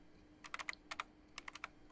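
A recently bought computer keyboard clicks in two short clusters of crisp key taps, close and moderately soft, with a faint hum underneath and no speech.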